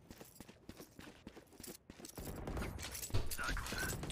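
Gunfire in a video game crackles in a rapid burst of overlapping shots, starting moderately loud and building into a dense, sustained barrage with busy background effects.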